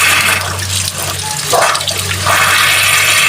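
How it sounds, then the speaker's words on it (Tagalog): An electric water pump drawing from a deep well runs loudly and close, with a steady low hum under a rushing, gushing flow of water filling and splashing for the whole stretch. "Yan, mandar na yung pump."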